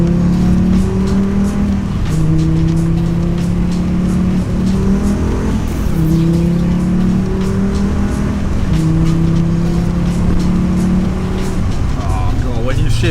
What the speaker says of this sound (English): This car is extremely effortless to drive because you've got such a big engine and so much torque low down.